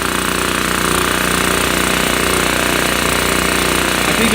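Repaired generator engine running with the choke partly on, a loud, close, steady mechanical chug with an even rapid pulse and no speech over it.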